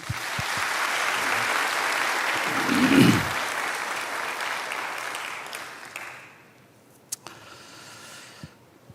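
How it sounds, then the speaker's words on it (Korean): A church congregation at a nationwide Baptist prayer gathering breaks into steady applause that carries for about six seconds, then fades to a quiet room with a few scattered claps. "다 같이 박수."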